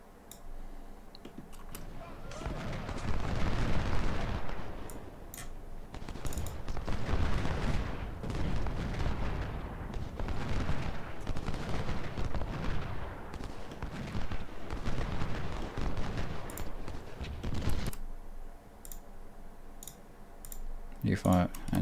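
Dense, crackling musket volleys roll on almost without pause in the Civil War strategy game Ultimate General, with a sharp battle roar that drops off near the end, leaving scattered clicks.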